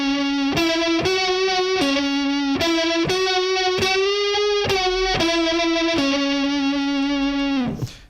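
An electric guitar plays a solo through distortion, with sustained, buzzing notes, string bends and wavering vibrato. Separate phrases follow one another steadily and loudly, alone with no talking, before the final note cuts off.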